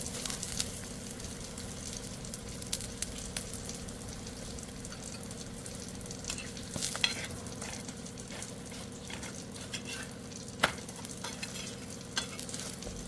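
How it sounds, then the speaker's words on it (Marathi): A chivai leaf paratha roasts with oil on a pan over medium-low heat, giving a continuous soft sizzle with occasional faint scrapes and taps, steady and fairly quiet throughout. "तीन ते चारदा उलटपलट करत या पराठ्याला तेल लावून व्यवस्थित शेकून घेतलेलं आहे"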